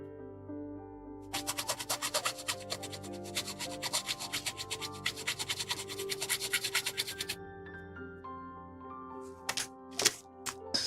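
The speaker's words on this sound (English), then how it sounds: "gently file down the two sides" A file rubs back and forth on a part from a Bandai 1/144 HG Gundam Geara Zulu (Guards Type) plastic model kit. The quick, rhythmic rasping strokes run for about six seconds over soft background music, followed by a few clicks.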